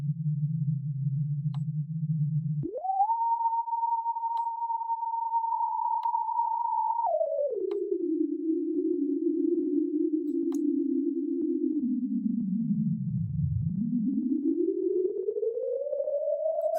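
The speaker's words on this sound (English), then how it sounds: "by default is a simple sine wave oscillator, but with this bandwidth selector we can modulate this frequency with the" A Berna3 software synth's sine wave oscillator holds a pure, steady tone alone, then jumps to a higher pitch, drops to a middle one, and finally swoops down and glides back up, with a faint noisy roughness creeping into the tone.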